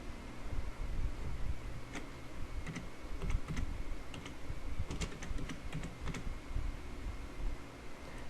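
Typing on a computer keyboard: a quiet run of soft, irregular key clicks in small clusters over a faint steady background hum, with no voices.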